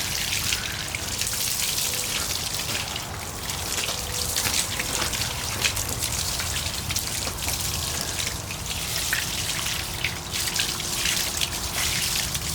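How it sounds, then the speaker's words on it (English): Steady hiss of water from a hose spraying and splattering against the wheels of a BMW 135i, continuous and close, with dripping and trickling throughout. "now I'm just going to hit it with the water hose and get all this crap off the wheels"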